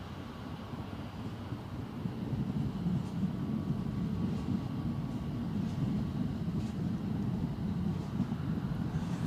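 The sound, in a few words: EasyJet airliner departing Newcastle Airport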